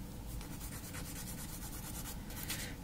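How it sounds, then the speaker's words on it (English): Long gel nails lightly buffed by hand, a steady soft rubbing scrape with faint rhythmic strokes, quiet and close with no talking. "just to give a light buff,"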